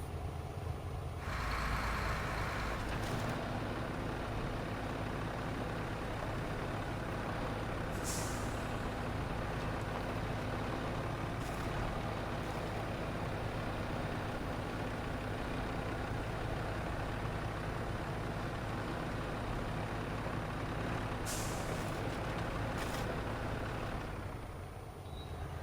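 A heavy truck engine rumbles steadily in SnowRunner, with brief hissing air-brake bursts standing out over the constant low drone.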